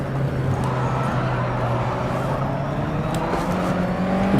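A USF2000 open-wheel race car engine in rFactor 2 at Suzuka West drones steadily and loudly at a fairly constant pitch, with a slight rise near the end as it holds speed through the run.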